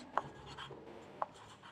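Pen strokes labelling a graph on paper, two short faint scratches about a second apart against quiet room tone.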